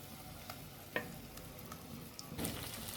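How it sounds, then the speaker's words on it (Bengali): A yogurt and raisin paste with green chili and ginger sizzles and fries with pointed gourd in a pan, a soft steady crackle with a few faint stirring clinks, quiet and close, no talking. "সবগুলো একসাথে কষিয়ে নিচ্ছি।"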